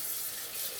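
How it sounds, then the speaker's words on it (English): Tap water pours steadily into a pot in a kitchen, a constant hissing splash with no pauses in a brief burst. "we're gonna put some water in this pot"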